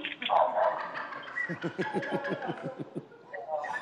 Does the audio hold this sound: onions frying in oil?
no